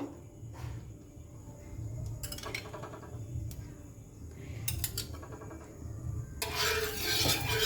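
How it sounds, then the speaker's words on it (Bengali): Oil is stirred across a hot tawa griddle, with soft scraping and rubbing strokes, light metallic clinks, and a brighter rasping sizzle building toward the end, no voices. "আমি আরেকবার নেড়ে দেবো চাটুর মধ্যে"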